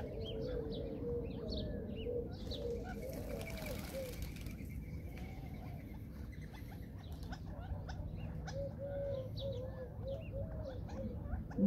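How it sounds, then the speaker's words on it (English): Ring-necked doves coo repeatedly among other birds and small chirps in an aviary, low rolling calls recurring over a steady background hum, moderately near, with no talking. "Ring-neck dove, she can hear them all calling."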